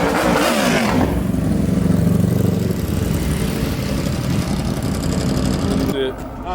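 A loud Mustang GT engine roars and revs hard near the listener, then settles into a heavy, steady drone before easing off at the end.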